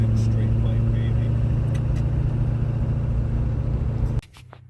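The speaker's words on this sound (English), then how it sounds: "Gotta love the sound of a Duramax." A Duramax diesel idling through a 5-inch straight pipe: a steady, deep droning rumble, loud and close, holding evenly before cutting off abruptly near the end, with brief talk over it.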